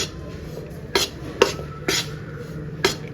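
A spoon stirs gram flour roasting in a pan, making quiet scraping with four or five distinct metallic taps against the pan, spaced about half a second to a second apart.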